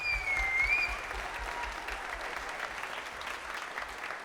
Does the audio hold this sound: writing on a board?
no